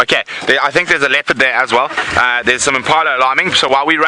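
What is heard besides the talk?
No everyday noises stand out.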